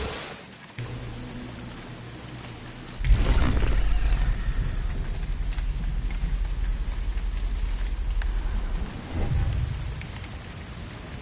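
Heavy rain falls steadily in the video game Republique, a broad, dense wash that starts quieter, swells suddenly into a louder downpour, then surges again near the end, with no speech.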